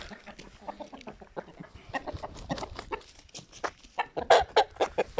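Young turkey chicks walk about outdoors, giving a steady series of soft, high peeping calls and clucks that come irregularly and grow louder and closer toward the end, with no talking.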